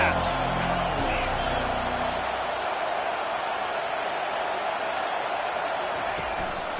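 A stadium crowd roars at an SEC versus Big Ten football game, a dense, sustained wall of cheering and noise that stays loud throughout, with a voice talking over it at the start.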